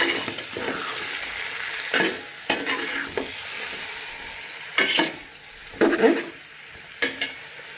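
Mixed vegetables for nabra (carrot, cabbage, cauliflower, cucumber, beans, bottle gourd, tomato and papaya) sizzle in a pan, with a soft frying hiss broken by several sharp, close scrapes and stirs of a spatula.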